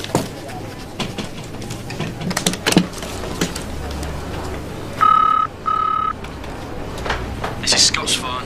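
A telephone keypad sounds two clear dialing tones, each about half a second long, one after the other. Voices talk and things shuffle and knock around them.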